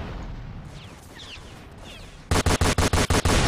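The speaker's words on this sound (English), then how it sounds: "Who's shooting rocket?" Rapid bursts of weapon fire in the Roblox game Fortnite Simulator, about six loud, evenly spaced blasts arriving together after a stretch of quieter rumbling game ambience.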